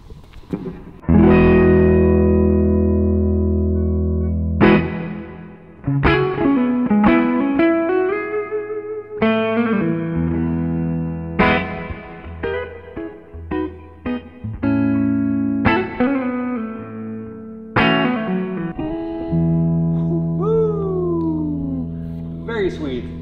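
An electric guitar made from ancient maple that was buried in the ground for 7,000 years, played through distortion and effects: ringing, sustained chords and single notes with bends and slides, struck in phrases separated by short decays.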